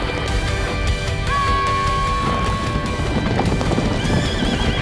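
A horse in a dramatic series trailer lets out a long, shrill whinny over rapid, continuous clip-clopping hooves, all loud and close and layered over a dense musical score.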